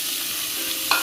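Bourek filling being stirred with oil in a hot pan, a close steady sizzle with soft scraping, ending in two brief sharper bursts as the spoon strikes the pan.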